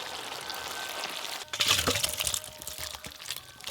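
Boiled potato, pumpkin and Malabar spinach stems are poured out of a pot, a brief wet splashing rush after a quiet stretch, then settling drips and small clatters in a kitchen.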